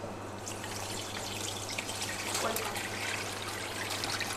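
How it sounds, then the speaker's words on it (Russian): Room-temperature water pours into a large plastic box for biga pizza dough, a steady broadband splashing and trickling stream at moderate level, continuous throughout and heard alone. "Наливаю воду комнатной температуры,"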